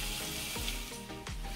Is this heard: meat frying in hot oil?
yes